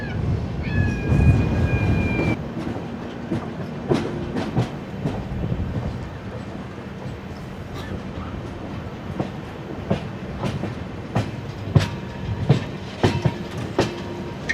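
Garib Rath Express train running in India, with steady rumble and clickety-clack of the coaches heard from onboard, rhythmic wheel knocks and brief higher squeals over continuous rolling noise, no talk.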